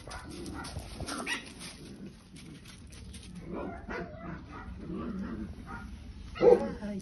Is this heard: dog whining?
yes